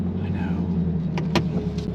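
A 1500-horsepower twin-turbo C8 Corvette rolls slowly into a shop at low speed, its engine a steady, fairly close low rumble with a few brief clicks and clunks over it.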